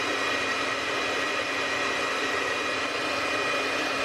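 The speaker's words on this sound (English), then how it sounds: "I'm gonna go run the blow dryer over it real quick" A blow dryer runs continuously at full power over a Cricut craft project, a loud, close, even rushing whoosh with a faint tonal whine throughout.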